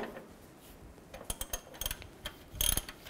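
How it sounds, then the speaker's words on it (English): A socket wrench tightens a puller to draw the harmonic balancer off a 2000-06 Chevy Tahoe engine, giving a series of sharp ratcheting clicks in irregular bursts, with a louder cluster near the end. "I'm just gonna take a socket and a wrench, and as I tighten this down, it's gonna pull the balancer outward"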